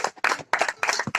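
Applause at a founders' festival gathering: bursts of hand clapping in short uneven clusters separated by brief gaps, close and fairly loud.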